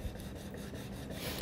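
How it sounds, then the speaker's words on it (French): A wire cake leveler saws back and forth through a génoise sponge cake, giving a steady, soft rasping scrape close by that runs through the whole moment without pause. "je scie bien ma lyre pour pouvoir bien couper mon gâteau"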